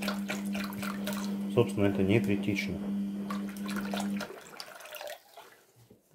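Cold tap water poured from a container into a bucket for an artificial stone mix, a steady running pour with a low hum beneath it, going on under a man's speech and stopping near the end.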